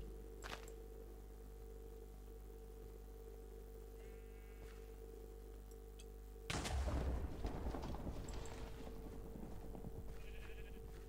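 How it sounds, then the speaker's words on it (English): A lightning strike in the Minecraft modpack Fire in the Pipe 2 beta hits with a sudden loud crack, followed by a rolling rumble over faint ambient game sounds and an earlier sheep bleat. "I think I just got struck by lightning."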